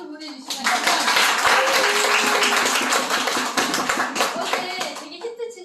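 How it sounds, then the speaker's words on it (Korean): Lecture audience claps, rising quickly into a full, even round of applause that holds steady and then tapers off, with a speaker's voice faintly present at the edges. "다시 한번 큰 박수 보내주시면 감사합니다."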